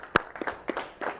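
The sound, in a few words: audience applause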